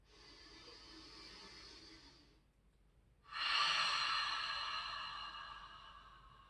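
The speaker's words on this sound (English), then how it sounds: "Take a full breath in with me" A slow, deep breath drawn in alone, then after a brief pause a louder, airy exhale or second breath that gradually fades, close and clear with no talking.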